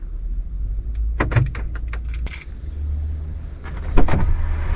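A quick run of sharp mechanical clicks and clunks from the central door locks of an Audi TT Mk1, close by over a low idling hum, then another short burst a moment later.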